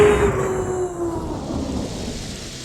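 Heavy rain pours steadily while a low roll of thunder rumbles through, a continuous storm wash with no voices.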